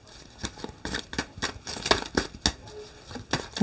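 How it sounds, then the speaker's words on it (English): Tarot cards are shuffled by hand in a steady run of sharp papery snaps and riffles, about a dozen close, crisp bursts with short pauses between them. "I'm hearing one more shuffle here."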